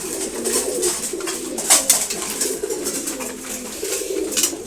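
Several pigeons, including khaki and racer types, coo steadily at close range during a morning feeding, their low burbling calls overlapping with occasional wing flutters and small scuffs.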